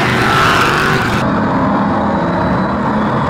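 Ford Granada banger racing cars roar past loudly at close range on an oval track, a dense continuous engine rumble with a sharp change as one car goes by.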